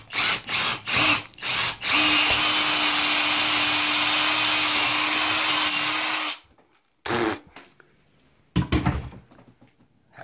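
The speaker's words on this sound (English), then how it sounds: "And drill hole for" A power drill bores a hole for electrical cable while a dining room lighting point is moved: a few short bursts, then one loud, steady run of about four seconds, followed by brief knocks and handling sounds.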